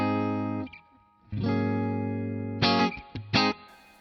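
Sustained chords on a clean electric guitar through a Fractal FM9 amp modeler, rich and ringing, followed by a few short strummed stabs near the end.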